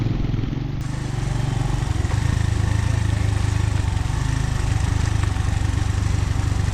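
Motorcycle riding along a rocky mountain track, its engine droning steadily and loud throughout with a constant low rumble, no voices.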